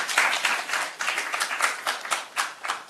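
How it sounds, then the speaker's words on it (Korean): An audience at a lecture gives a professor a short burst of applause, with brisk, overlapping claps that are fairly close and steady, then thin out slightly toward the end. "교수님께 다시 한번 박수 부탁드리겠습니다."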